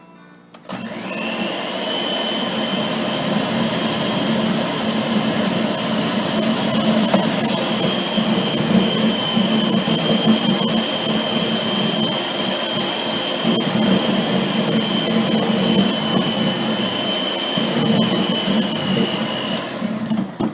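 Electric hand mixer beating eggs and flour into fruitcake batter for a Christmas loaf, a steady close whir with a high motor whine holding level for about twenty seconds, no talking over it.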